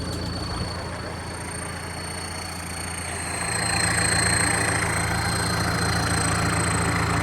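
A new Kubota-style L5018SP tractor engine running in a muddy field, a steady close idle-like rumble that swells louder and holds.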